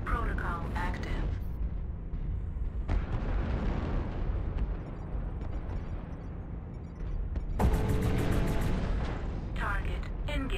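Tank strike in a video game, loud booming explosions and bursts rolling on for several seconds with a renewed crackling blast near the end, under a voice talking over the action.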